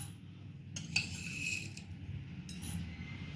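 Two spoonfuls of black mustard seeds are poured into a bowl for a raw mango chutney, giving a few brief, light rattling patters up close over a quiet background.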